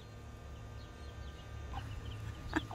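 Soft clucking from a hen with faint peeping chicks just out of the coop, low and steady over a quiet outdoor background, with one slightly louder cluck near the end.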